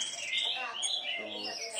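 Small caged birds, including starlings and parakeets, chirp and tweet in quick, overlapping high calls close by, while a person talks over them.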